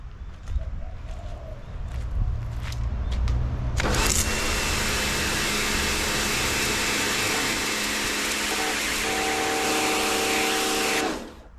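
A Karcher K2 electric pressure washer starts abruptly after a few seconds of quieter background and then runs with a loud, steady whine and spray hiss before shutting off near the end.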